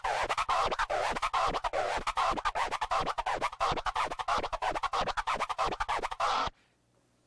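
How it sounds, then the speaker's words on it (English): DJ orbit scratch on a turntable, a two-click flare run back and forth: a fast, steady stream of sharp rhythmic scratches, loud and close, continuing for about six seconds before cutting off to silence. "It's called the Orbit. It's pretty much a two-click flare,"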